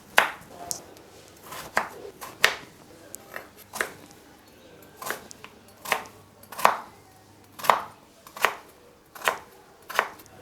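Knife chopping peeled radish into cubes on a board: a steady series of sharp, close chops, about a dozen evenly spaced strikes with brief gaps, alone without talk.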